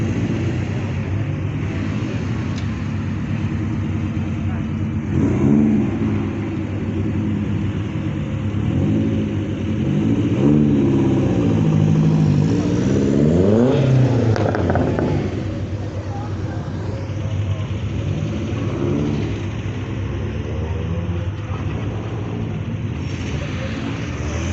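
Classic cars, including a Subaru Legacy and an MG, roll past at a pub car meet in Papplewick, their engines rumbling and swelling in a few near passes under continuous spoken commentary.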